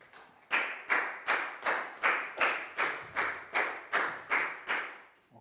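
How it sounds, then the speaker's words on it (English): Year 4 students in a classroom clap together in a steady, evenly spaced beat, about eleven sharp claps in a row, close and clear with no talking. "Big round of applause for Bang Pon, please, guys."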